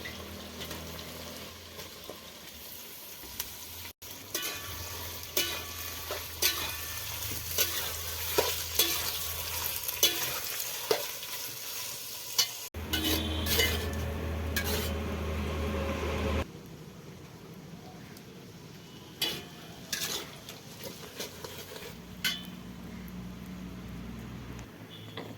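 Chicken biryani ingredients fry and sizzle in hot oil while being stirred, a steady close crackle with scraping stirs and a brief stretch of running tap water.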